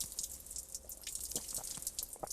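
Water trickles and drips faintly and steadily from the Pomezní forest spring, with soft irregular splashes close by in a quiet woodland setting.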